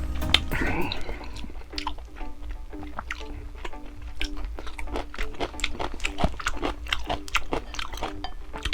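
Close, wet chewing and biting of pollock tteokguk rice cake soup, with repeated soft crunches and squishy mouth sounds running steadily throughout, plus faint clinks and a brief voice early on.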